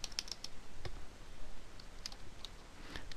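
Light, quick keystrokes on a computer keyboard: a loose run of soft clicks at close range, steady and quiet, with no voice.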